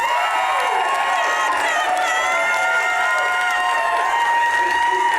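Audience at the 9th annual 4 Under 40 Awards applauds and cheers the finalists, a dense, steady roar of clapping with whoops and crowd voices running the whole time.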